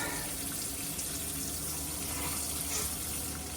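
Water runs steadily from a tap in a 2017 Grand Design Imagine RV being winterized, a continuous even hiss and splash with no breaks.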